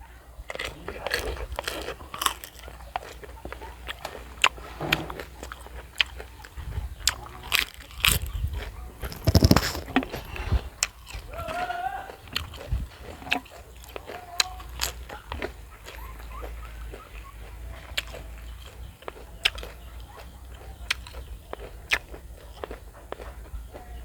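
Crunchy biting and chewing of crispy deep-fried shrimp, close up and fairly loud, with repeated sharp crackling bites in an irregular rhythm over roughly twenty seconds and no talking.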